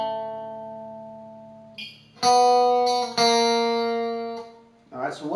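Electric guitar playing a verse riff, a ringing sustained chord giving way to two loud struck power chords that ring and decay, with a short spoken bit near the end.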